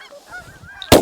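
Geese honking during a goose hunt, nasal calls rising under faint background noise, ending in a loud close burst of sound.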